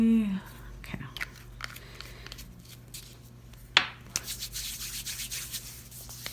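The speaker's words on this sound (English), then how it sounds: "I'm actually going to rub this just all in my hand." Oil being rubbed into the hands while a manicure with gel and encapsulated glitter is under way, heard as soft, close sliding and rubbing strokes, with a short sharp rasp partway through followed by steadier skin-on-skin friction.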